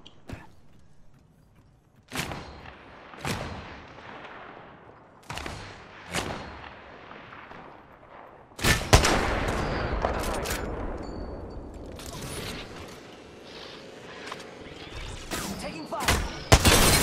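Gunfire in Apex Legends during a firefight: sharp separate shots ring out, then a dense burst of rapid fire and continued shooting, with players talking over the action.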